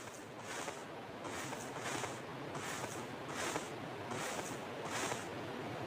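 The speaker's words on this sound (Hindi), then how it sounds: "जब वो क्राउच होता है तो मतलब बैठता है तो कुछ ऐसी आवाज आती है।" Soft, steady shuffling with faint rhythmic rustles roughly every second, a crouched player moving slowly in PUBG Mobile, no talking.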